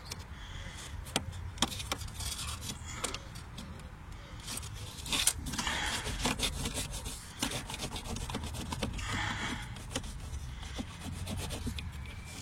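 A cabin air filter is squeezed and pushed into its housing in a Renault Clio 2, giving steady close rubbing and scraping of pleated filter material against plastic, with scattered sharp clicks and knocks.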